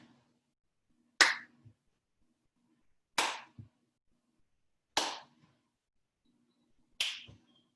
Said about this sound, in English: Try to touch the ceiling and clap your hands while the ball's in the air.